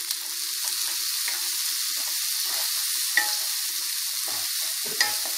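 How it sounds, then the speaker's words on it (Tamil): Tomato frying in oil while mushroom gravy is being made, giving a steady loud sizzle with light stirring scrapes and a couple of sharper clinks, no talk. "இப்போது தக்காளி சேர்த்திக்கலாம்."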